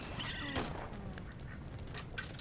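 Ducks from Duck Hunt inside the Little Inferno video game quack in short, faint game-audio calls over a dense background hiss.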